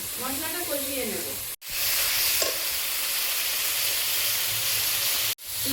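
Masala spice paste fries in a pan for a chicken dish, with a loud, continuous hiss and sizzle and a faint voice early on.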